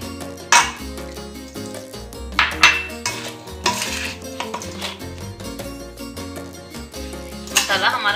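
Spicy baby potatoes are tossed with masala and a sprinkle of water in a metal pan, with a spoon scraping and clanking irregularly and loudly over steady background music.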